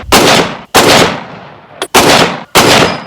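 Four loud, close rifle shots from a SOCOM 16 CQB, each a sharp crack followed by a long decaying echo, spaced roughly two-thirds of a second apart, with a faint metallic clink between the second and third.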